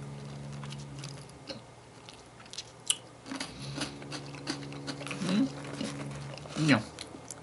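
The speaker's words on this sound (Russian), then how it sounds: "сейчас еще одну съем" Paprika-flavoured Lorenz Pomsticks potato chips being bitten and chewed close to the microphone, scattered crisp crunches under ongoing talk and humming, with a louder crunch near the middle.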